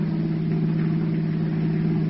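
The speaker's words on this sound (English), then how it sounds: "Listen to that motor purr" A brand new car's motor running as it drives, a steady low hum with a smooth even drone and no breaks, close and continuous.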